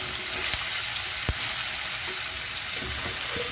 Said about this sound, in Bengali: তেলটা গরম হলে আমি এই ভিন্ডি বা ঢেঁড়স যাই বলুন এগুলোকে ভালো করে ভেজে নেব।